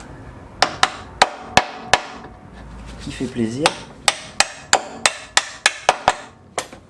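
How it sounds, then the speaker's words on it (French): Hammer blows on metal while removing the front axle of a Peugeot 206: about a dozen sharp, close, ringing strikes in uneven bursts, with a brief pause for a short remark midway. "Et un petit coup de marteau"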